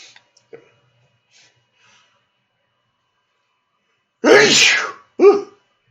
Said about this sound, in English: I'm gonna sneeze. Excuse me.